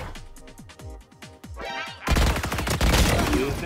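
Weapon fire in the tactical shooter Valorant: several sharp single shots ring out early, then a dense burst of rapid gunfire and impacts dominates the second half, loud and close.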